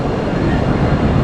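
A tram rolling through a busy city-centre tram junction in Strasbourg, a loud, close, continuous rumble of wheels on rails with dense broadband noise.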